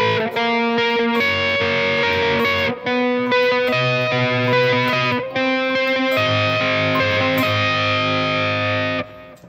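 Heavily distorted electric guitar plays the second part of a song as sustained, chiming chords with a low bass line, loud and continuous for nearly ten seconds before cutting off.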